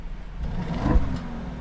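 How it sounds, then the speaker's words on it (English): A 2021 Bentley Bentayga engine gives a brief rev, rising and falling once over a steady idle rumble, heard fairly close and alone with no talk. "Give us a couple revs, buddy."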